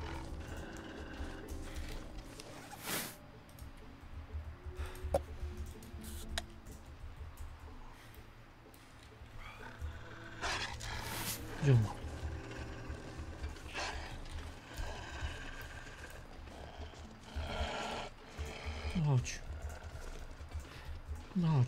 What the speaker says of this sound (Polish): Już wilki słyszę.